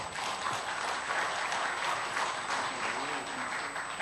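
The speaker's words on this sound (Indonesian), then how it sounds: "Kita beri aplaus." Steady audience applause at a live candidate debate for regent and deputy regent of Karimun, a dense even clatter of many hands clapping that holds without a break.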